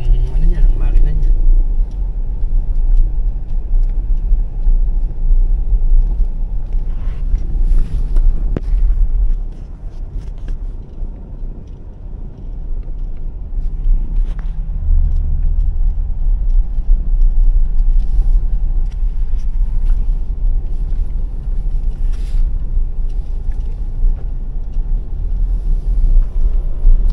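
A jeepney with a minibus engine drives uphill through Baguio near John Hay, its deep engine rumble steady and close, with road and wind noise, while people talk over it at times.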